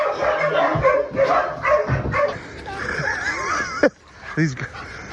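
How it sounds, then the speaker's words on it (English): Dogs bark, yip and whimper excitedly up close in an irregular burst of sounds, with people talking among the barks. "These dogs are so crazy. Look."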